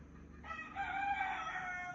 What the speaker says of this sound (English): No, the rooster.